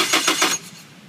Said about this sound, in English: I'm cranking the engine.